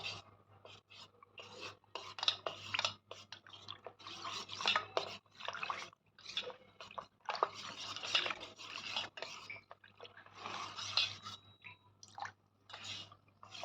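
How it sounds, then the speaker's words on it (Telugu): Starch powder being stirred into water in a bowl with a spoon, giving repeated scraping and clinking strokes in an irregular rhythm, close and moderately quiet, with a steady low hum underneath. "ఉండల కట్టుకోకుండా శుభ్రంగా పాలలాగా తిప్పుకోవాలి"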